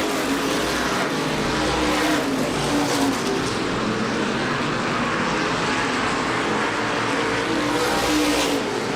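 Stock cars racing on an oval track at a 2005 MRS Star 100 event, loud continuous roar of several engines passing close and blending together without a break.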